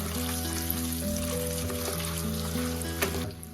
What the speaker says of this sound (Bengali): আমি এখানে ডিমগুলোকে খুব কড়া করে ভাজবো না